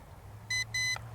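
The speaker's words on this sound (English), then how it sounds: "See, we got 2 beeps." Two short, bright electronic beeps in quick succession from an MJX Bugs 19 drone controller signaling high speed mode, over a low background hum.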